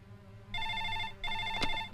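A telephone rings at a police station in two electronic trilling bursts with a short gap between them, clear and moderately close, with no talk over it.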